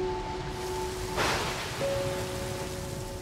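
Steady rain in a Grand Canyon simulation video game, a soft, even hiss of falling water with a brief louder gust midway and a faint electronic tone underneath.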